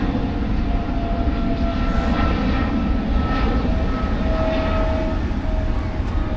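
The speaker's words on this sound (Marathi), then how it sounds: "विमान चालला." A loud, continuous engine roar of an airplane droning steadily overhead at Juhu Beach, Mumbai, with a faint whine riding on the broad rumble.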